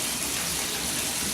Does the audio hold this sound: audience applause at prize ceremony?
no